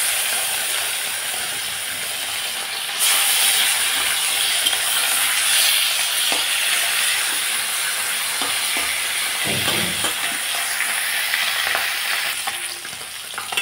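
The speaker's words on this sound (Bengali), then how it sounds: "মাছগুলো ছেড়ে দিচ্ছি।" Fish seasoned with turmeric and salt sizzles steadily in hot oil in a pan, a dense continuous crackle with occasional louder spits and clinks of utensils.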